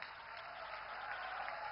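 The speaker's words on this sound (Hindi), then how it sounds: "तालियां जोरदार हो।" Applause from the audience at a railway and coal evacuation project launch ceremony in Jharkhand, a steady continuous clatter of many hands, fairly distant and uniform throughout.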